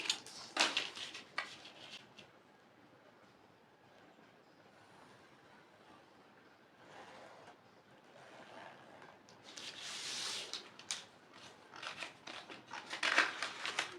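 Scissors snipping through paper while cutting out a hand-drafted pattern for a stylish illusion top, with bursts of crisp cutting and rustling separated by quieter pauses.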